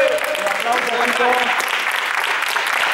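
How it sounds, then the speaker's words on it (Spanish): A group applauds after a final paintball team challenge, steady dense clapping that fills the whole stretch, with voices calling out over the first half. "¡Un aplauso, Carpio!"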